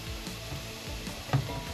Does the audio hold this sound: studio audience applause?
no